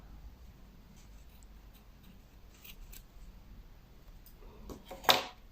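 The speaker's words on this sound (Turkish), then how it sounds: "İsterseniz şöyle makasla kesebilirsiniz." Scissors cut yarn for a braided hair tie: a faint rustle of handling builds to a single crisp snip near the end, close and fairly quiet.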